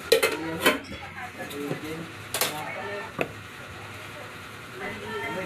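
A young boy clears and washes plates and spoons, producing scattered clinks and clatters of dishes and cutlery, fairly close but not loud, with a person talking over the activity.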